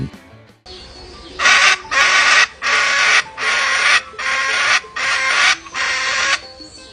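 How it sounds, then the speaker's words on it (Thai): A series of about seven harsh, raspy bird calls, each a rough growling burst lasting under a second, repeated in a steady rhythm and heard close and loud. "นกแก้วชนิดนี้มีเสียงร้องที่แหบพร่า คล้ายกับเสียงร้องที่แหบพร่าของนกเขาคาทู โดยมักเรียกว่าเป็นเสียงคำราม"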